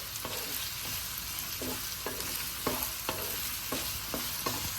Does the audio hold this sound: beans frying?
yes